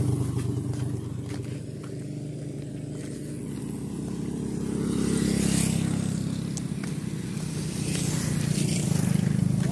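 A motorcycle ridden along a country road, its engine a steady droning hum that swells and revs over wind noise for several seconds, no speech.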